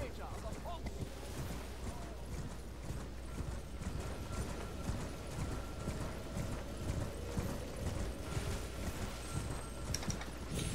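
Horse hooves gallop in Elden Ring, a fast, steady clip-clop rhythm that runs loud and unbroken through the whole stretch, with mechanical game sounds beneath.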